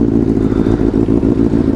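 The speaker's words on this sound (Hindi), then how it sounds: "बाइक स्टार्ट कर यार, लोग रुक रहे हैं।" Benelli 600i motorcycle engine running close by, a loud steady low throb with rapid pulsing beats and no voices.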